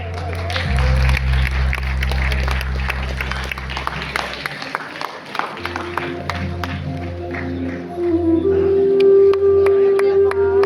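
Audience applause at a Vijay Karnataka Kannada Habba stage event honouring Na. Someshwar: sustained, loud clapping fills the hall, blended with low, droning music and tones throughout.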